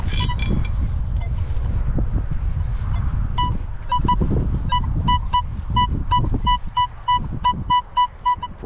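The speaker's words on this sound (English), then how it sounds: "A little windy here" Wind buffets an outdoor microphone at a metal detecting dig on an old Ohio schoolhouse site, a low rumbling roar that swells and fades, later broken by a series of short high detector beeps.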